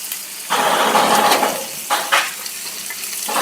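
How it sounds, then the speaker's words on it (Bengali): Salted carrot, capsicum and onion fry in a pan for fried rice, giving a steady close sizzle with a louder surge of hissing and a few scraping stirs near the end. "তো খুব ভালো করে নেড়েচেড়েগুলোকে ভেজে নেব।"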